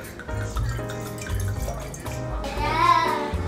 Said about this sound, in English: Let's pour up a little bit